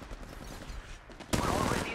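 Gunfire erupts in the Apex Legends video game, a sudden dense burst of automatic shots that bursts in near the end after quieter game sounds.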